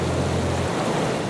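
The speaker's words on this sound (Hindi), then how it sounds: "ये झरना कितना अच्छा लग रहा है नहीं?" Water from a waterfall rushes and roars in a steady broadband wash, close and continuous, with no voices over it.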